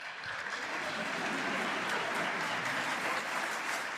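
A studio audience on a Hindi talk show claps together in a sustained, even burst of applause that swells slightly and holds, heard from a moderate distance with faint voices mixed in.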